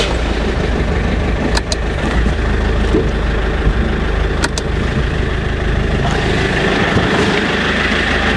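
Land Rover Freelander engine running at a steady, loud idle close by, a continuous low drone broken by a couple of brief clicks, with no talking.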